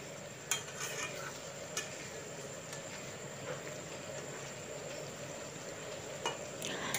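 Potato and pointed gourd (kakrol) curry being stirred in a pan, a low steady bubbling simmer with a few brief scrapes and taps of a spoon against the pan.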